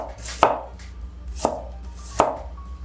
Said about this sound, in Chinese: 姜切丝，先切片。